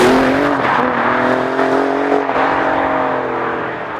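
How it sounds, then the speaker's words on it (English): A 2021 Alfa Romeo Giulia Quadrifoglio's turbocharged six-cylinder engine accelerates hard, a loud, rising snarl climbing in pitch with brief shifts in tone, heard close with no voices. "I can't think of a turbocharged 6-cylinder engine that sounds better."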